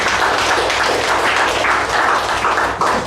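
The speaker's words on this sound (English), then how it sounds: "A round of applause for all the evaluators." A meeting audience gives the evaluators a sustained round of applause, a dense, close wash of clapping that holds steady throughout.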